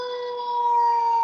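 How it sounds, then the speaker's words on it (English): A siren wails with a steady, sustained tone that swells slightly louder midway, heard alone and fairly close. "It wouldn't be right if you ain't had the siren."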